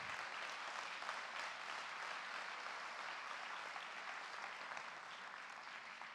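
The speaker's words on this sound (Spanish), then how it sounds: "un aplauso para ellos" Steady applause from a church congregation for volunteers, a dense, even wash of clapping that holds at the same level throughout with no pauses.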